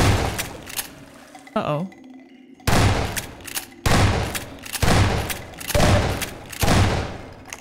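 Repeated heavy gunshot bursts in Half-Life 2, loud and evenly spaced booming blasts with short gaps, plus a brief spoken exclamation near the start.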